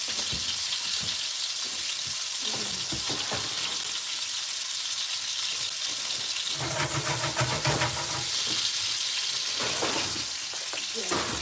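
Raw chicken pieces sizzling and frying in a pan for a chicken bacon flatbread, a steady close hiss with occasional stirring scrapes and bursts of louder crackle partway through.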